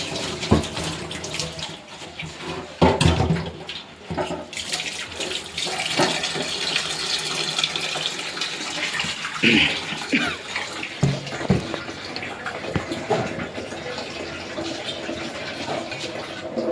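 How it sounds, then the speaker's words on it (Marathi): Hot water pours steadily into a vessel for boiling rice in a home kitchen, a continuous splashing gush with a few louder bursts and clatters, carrying on alone without talk. "गरम पाणी टाकले लवकर उकळी येते."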